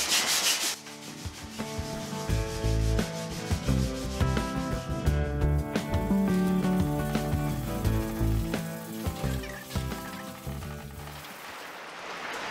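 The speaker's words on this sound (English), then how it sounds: "just going over with a bit of emery cloth to smooth out any of the notches on the frame" Continuous gritty rubbing as emery cloth scrubs back and forth over a motorcycle's metal frame, close up and steady, with no talking.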